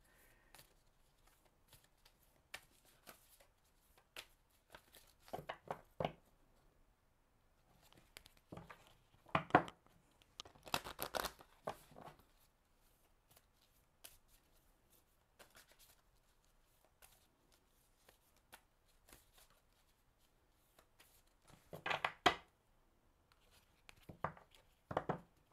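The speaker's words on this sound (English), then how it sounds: "Flipping out cards." Tarot-style cards are shuffled and flipped out in a quiet room, giving soft, intermittent papery riffles and slaps in short bursts separated by near silence.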